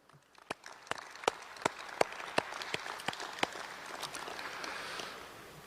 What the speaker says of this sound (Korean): 이 모든 분들께 뜨거운 감사의 박수 보내주시면 좋겠습니다.